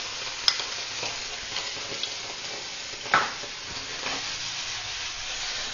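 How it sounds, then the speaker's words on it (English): Ginger garlic paste sizzles in a hot pan for chicken masala, a constant close hiss with a few sharp spatula knocks and one louder scrape partway through, no voices. "I'm adding approx 1 spoon of ginger garlic paste."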